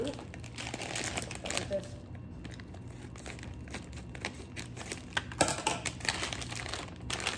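A plastic bag of Japanese peach candy crinkles and rustles in hands as it is pulled open, close and continuous with irregular crackly bursts throughout, while a person speaks briefly.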